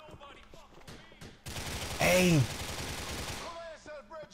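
A sudden volley of heavy gunfire in the video game GTA 4 erupts and rattles on for about two seconds. Someone talks before and after it, his voice overlapping the shots.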